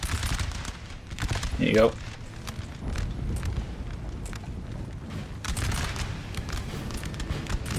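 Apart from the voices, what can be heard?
musket volley firing in Napoleon: Total War video game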